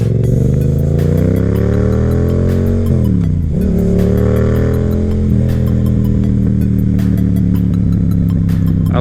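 A Yamaha FZ07 motorcycle cruising on a highway, its engine a loud, steady burbling drone that rises and falls slightly with throttle over heavy constant wind rush, no voices.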